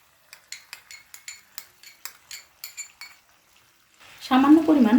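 Whipped yogurt goes into chicken in a pan with a run of about a dozen crisp, evenly spaced metallic clinks of a spoon against cookware. The clinks fade near the end, and then a voice speaks close by.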